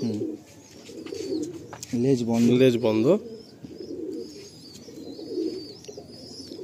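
Pigeons coo in a loft with soft, repeated rolling calls. Someone speaks briefly over them, and a louder burst of cooing rises in the middle.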